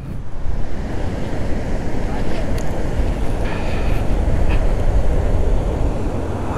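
Sea waves on Shrivardhan beach along the monsoon Konkan coast roll in as a steady, loud, continuous surf roar, mixed with wind buffeting the microphone and no distinct breaks between waves.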